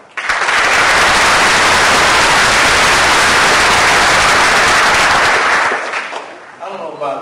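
Loud, dense applause from an audience at a police peace officer graduation ceremony, sustained clapping for several seconds before tapering off, with voices faintly behind it.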